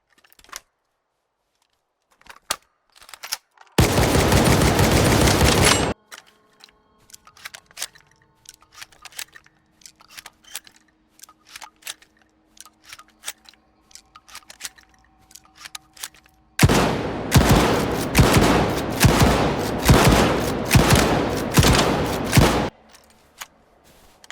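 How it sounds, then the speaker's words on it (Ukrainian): Shotguns in the video game S.T.A.L.K.E.R. 2 fire a full ammo load in two loud, rapid bursts of blasts, with quiet reloading clicks and handling sounds in the gap between them. "Перезарядка плюс відстрілювання повного боєкомплекту."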